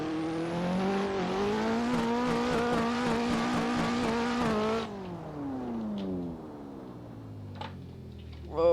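Drift car on a track, heard as a loud, high revving engine that holds steady for about five seconds, then drops off to a lower winding-down tone, followed by faint scattered sounds and a brief burst at the very end.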